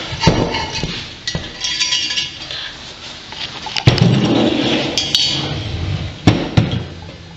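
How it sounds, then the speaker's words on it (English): A cable sleeve is crimped on a rod end turnbuckle, with sharp metallic clicks and snaps at irregular moments between stretches of rustling handling noise and low scraping. "You're going to crimp it once, move towards the middle of the stud, and crimp it twice."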